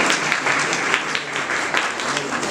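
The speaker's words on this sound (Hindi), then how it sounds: "अगर आपको अच्छा लगे तो आप ताली बजा सकते हैं।" Audience applause at a music session, dense steady clapping from many hands filling the whole stretch at moderate loudness.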